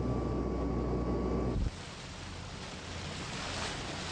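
Aegean Sea waves and wind, a loud rushing low roar that cuts abruptly after about a second and a half to a quieter, airy wash of surf and breeze.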